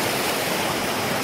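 A river runs across a road near a small village in earthquake-hit Nepal, a steady, close rush of flowing water that stays broadband and even, with no voices.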